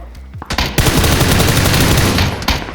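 Rapid bursts of automatic gunfire in PUBG, loud and close, firing in a sustained rattling stream after a few opening shots, with no talk over it.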